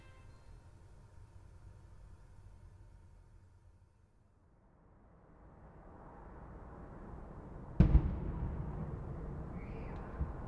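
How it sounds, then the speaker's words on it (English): A single sharp bomb blast in an audio drama cuts through a low, building rumble and leaves a loud, lingering boom that rolls on and slowly fades. "those bombs you'll hear are just part of the story"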